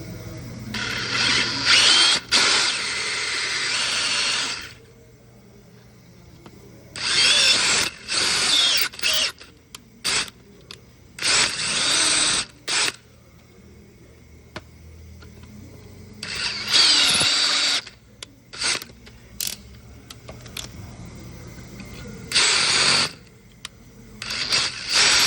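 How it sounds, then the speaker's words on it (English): Power drill whining into the metal electrode of a broken glow plug in an Isuzu engine, in several bursts of a few seconds each, with quiet pauses between runs. "I'm going to start by drilling the inside of the electrode to 1/4 inch."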